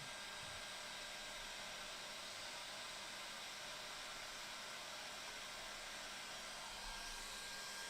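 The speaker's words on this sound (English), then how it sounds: "I had the hair dryer sound" A hair dryer blows continuously, a steady airy roar with an even hiss that holds constant throughout, loud and close, with no voices.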